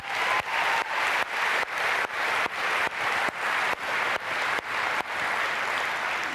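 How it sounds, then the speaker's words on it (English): Audience applause for an event production company team at a corporate gathering, a dense, steady wash of clapping from a crowd, continuous for several seconds with no talk. "Let's give them a round of applause."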